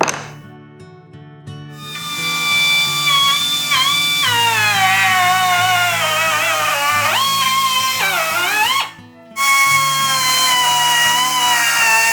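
A power tool taps bolt threads into acrylic for a cart build, lubricated with WD-40, producing a loud, close, sustained whine with shifting, sweeping pitch, briefly stopping and restarting partway through.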